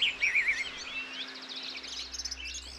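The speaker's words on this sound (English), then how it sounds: "enjoy the magic of birdsong." Birdsong in a natural spring setting: a clear, warbling whistled phrase up front, then a series of rapid high chirps and trills, fairly close and moderately loud, with a faint low hum underneath and no talking.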